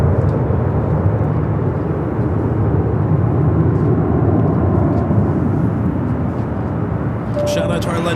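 An Embraer ERJ 135 LR regional jet landing at LAX, a loud, steady broadband engine roar that holds throughout, with a brief tonal whine near the end.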